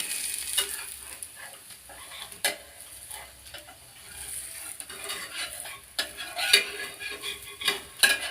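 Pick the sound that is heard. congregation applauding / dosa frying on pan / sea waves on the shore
dosa frying on pan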